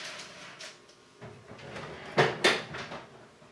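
An oven door handled as spaghetti squash goes in, a few soft knocks and rattles followed by two sharper clunks close by.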